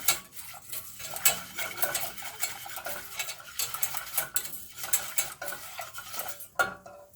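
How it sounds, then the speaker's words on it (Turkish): A spoon stirs flour into a chocolate soufflé mixture in a pot, with repeated close scraping and clinking against the metal in an irregular rhythm. "Güzelce bir karışmasını sağlıyorum ki top top olmasın kaynarken."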